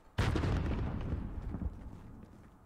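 A mortar round and gunfire in the video game Modern Warfare, one sudden loud deep blast with a long rumbling decay lasting over two seconds.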